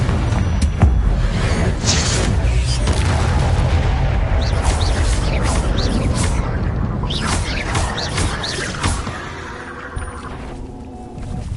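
Repeated explosive blasts from the Confringo fire spell in Hogwarts Legacy boom and crackle one after another over heavy low rumble, loud and dense, easing off toward the end.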